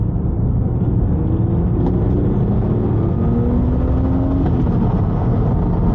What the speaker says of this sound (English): I love how this engine revs up, guys. Just listen to that. I'll try to do a little pull here.